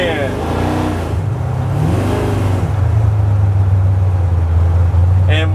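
A 1967 Chevy C-10 restomod with a 7.0L LS7 V8 making over 700 hp, its engine droning low and steady, rising into a sustained rumble, with a voice speaking over it near the start.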